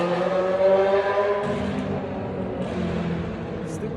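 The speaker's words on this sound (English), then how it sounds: "Stupid ass, loud ass motorcycle." A loud motorcycle passes by with a steady engine drone that holds for a few seconds at moderate distance, with no talk over it.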